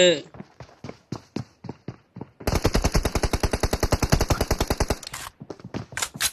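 Video game gunfire arrives first as scattered single shots, then a long rapid automatic burst of evenly spaced cracks, then more spaced shots, with a voice briefly heard at the start.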